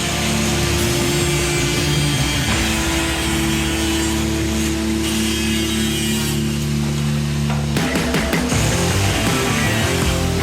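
A power saw cuts through plastic fairings from a Banshee quad, a loud continuous buzzing grind with shifting pitch as the blade bites and a brief change near the end.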